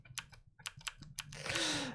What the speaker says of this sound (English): This is the mechanical keyboard we were talking about earlier